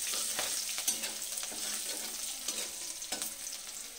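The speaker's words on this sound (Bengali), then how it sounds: "রসুন কুচিটাকে একটু ভেজে নেব।" Chopped garlic frying in hot oil in a pan, a continuous soft sizzle broken by scraping clicks of a spoon stirring at irregular intervals, close and moderately quiet with no voices.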